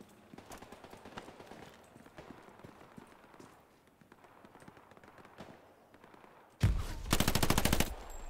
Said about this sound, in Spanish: Me dispara un rifle